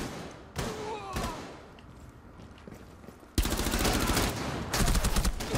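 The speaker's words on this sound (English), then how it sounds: "They're like both shooting." Gunfire in the Rainbow Six Siege video game: a couple of sharp single shots, then a dense sustained burst of rapid automatic fire that pauses briefly and resumes, loud and close.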